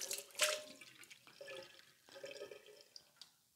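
Hot water runs and splashes over a hot cast iron pan during a quick rinse, a soft, uneven splatter that rises and falls in a few close bursts with small drips between.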